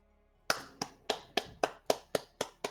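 Nine sharp hand claps in a steady, even rhythm, close and crisp, with brief silence before they start.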